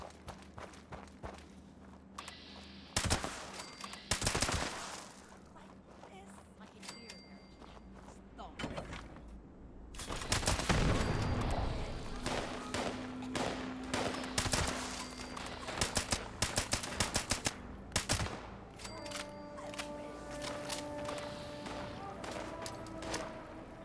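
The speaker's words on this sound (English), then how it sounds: "we're going to get in a little bit of a firefight here" Bursts of gunfire crack and rattle through a firefight in the video game Fallout 76, with clustered volleys, footstep-like thuds and overlapping effects under game music and ambience.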